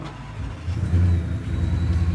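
A 2018 Ford F150 engine with a freshly installed TVS supercharger idles with a low rumble, then climbs into a brief, moderate rev and holds a throaty, even drone, close and loud.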